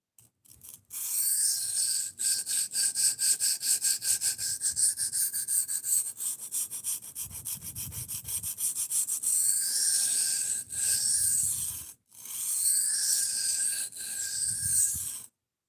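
A knife blade is sanded to a 400 grit finish with long, rhythmic rubbing strokes, close and steady, broken by a couple of short pauses.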